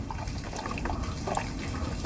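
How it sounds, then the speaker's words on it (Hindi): Water pours steadily into a flour mixture in a large kneading platter, a continuous close trickle and splash with small bubbly plops throughout and no voices. "और पानी डाल"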